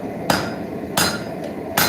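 Three heavy blows of a 3-pound hammer squaring a railroad spike head on an anvil, evenly spaced sharp metallic strikes, close and loud, with no talk.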